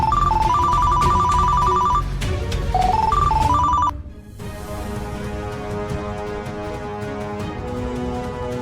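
A telephone ringtone chimes in a bright, repeating melodic pattern for about four seconds, then cuts off abruptly and gives way to a steady sustained musical tone in a Tamil TV drama scene.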